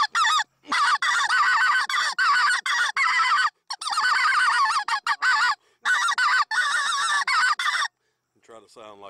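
Goose calls blown to imitate a whole flock of geese during a hunt, a dense, continuous run of loud, overlapping honks and clucks in rapid bursts, with short gaps between, ending on a fainter call.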